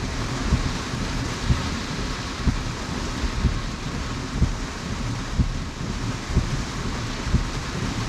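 Heavy rain drumming steadily on a Tesla driving through a downpour, a dense constant wash of droplets and wind noise with regular low thumps, no talking.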